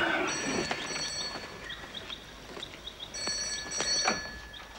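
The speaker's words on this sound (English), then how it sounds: "That'll be the phone, Rich." A telephone rings in an old television advertisement, sounding as two bursts of bright, warbling electronic trills, the first early and the second after a pause, set against faint room noise.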